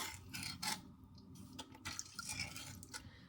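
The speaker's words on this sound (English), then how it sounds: "And you're gonna just stir it up." Shoyu ramen broth with tare being stirred in a bowl, soft liquid swishes and rubbing scrapes close by, quiet and uneven over a few seconds.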